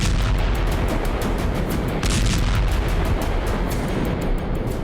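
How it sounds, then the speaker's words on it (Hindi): Russian air force bombing in Syria, a dense, loud and unbroken roar of blasts and rumbling that fills the whole stretch without a pause. "जिम्मेदारी पुतिन ने रूसी वायुसेना को दी है, जो विद्रोहियों के कब्जे वाले इलाके में बमबारी कर रही है।"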